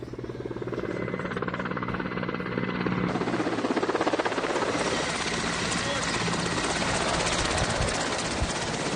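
A Russian military helicopter evacuating wounded soldiers from the front lines beats loudly and steadily throughout, its rotor chop and engine drone close and continuous.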